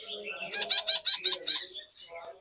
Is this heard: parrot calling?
yes